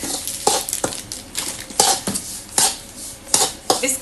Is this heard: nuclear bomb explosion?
no